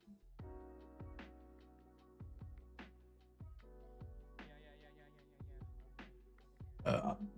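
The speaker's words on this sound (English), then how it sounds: "Sorry, I burped again." Several short, loud burps from one person recur at irregular intervals in a quiet indoor reptile room, with a rougher, noisier burst near the end.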